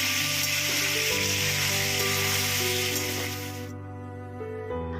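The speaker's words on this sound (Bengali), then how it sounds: "ফোড়নটা ভাজা হয়ে গেলে এর মধ্যে আলুর টুকরোগুলো দিয়ে ভেজে নিচ্ছি।" Potato pieces frying in oil over a tempering of spices, loud continuous close sizzle with a sustained hum underneath, the hiss easing off and quieting near the end.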